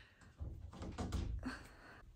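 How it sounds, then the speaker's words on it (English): A door being opened indoors: a couple of soft, muffled thunks and rattles, quiet and close, with no voices during the sound. "Okay, the door is now open"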